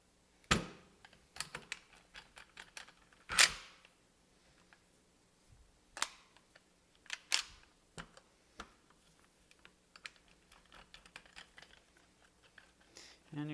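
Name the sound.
fitting the barrel onto a Maverick 88 shotgun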